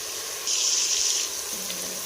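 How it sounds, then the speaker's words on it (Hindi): Water pours in a short splashing stream into a pressure cooker of minced meat for under a second, close by, then stops, leaving faint background noise. "इसमें अब हम पानी थोड़ा सा डालेंगे"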